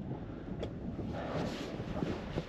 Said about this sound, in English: It's pretty windy up here, icy